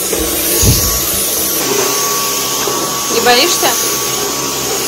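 A household vacuum cleaner runs steadily indoors, a loud broadband whine under the whole stretch, while someone talks briefly over it.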